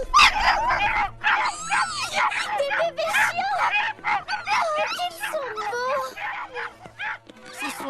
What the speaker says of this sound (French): Des bébés chiens. Oh, qu'ils sont beaux.